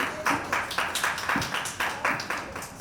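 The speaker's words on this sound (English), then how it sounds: "Please give him a round of applause." A conference audience claps in a round of applause after a talk on sustainability and AI, heard as a steady series of bright, rhythmic clap bursts at moderate level with no speech over it.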